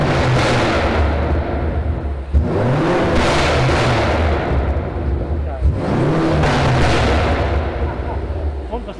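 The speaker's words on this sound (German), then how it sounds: "So ballert er am besten, wenn du ihn komplett aufdrehst, ja." A 750 hp BMW M8 F92 Competition coupe with Fi exhaust and catless downpipes revs hard twice, each surge climbing into a loud rasping roar before dropping off with sharp crackling pops, heard up close.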